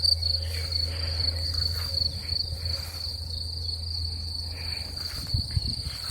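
Crickets chirp in a steady, high-pitched trill across an open field, continuous and fairly close, with a low background hum.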